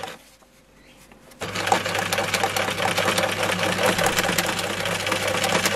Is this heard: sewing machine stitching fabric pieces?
yes